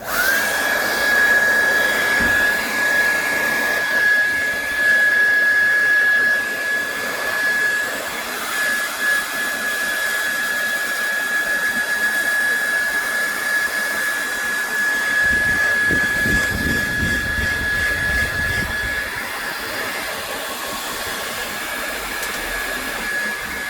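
A heat gun or hot-air blower warms a Samsung Galaxy SM-G975F phone to loosen its screen, giving a loud, steady whooshing drone that runs nearly unbroken for over twenty seconds.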